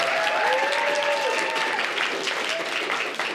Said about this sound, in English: Please give a big round of applause to yourselves.